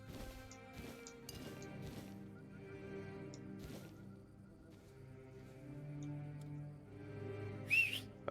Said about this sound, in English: Oh, I didn't mean to call my horse.